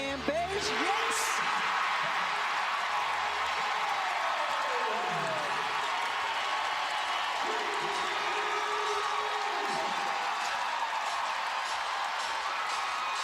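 A WNBA playoff crowd in Las Vegas cheers the Aces during a second-round game against the Chicago Sky, a continuous arena roar with whoops under an excited commentator talking over it.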